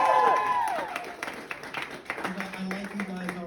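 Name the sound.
audience applause at stand-up comedy show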